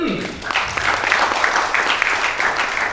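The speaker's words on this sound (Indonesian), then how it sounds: "Oke, tepuk tangan dari kalian dulu." Audience applause at a scholarship grand launching event, a loud continuous patter of many hands clapping throughout, with a brief voice at the very start.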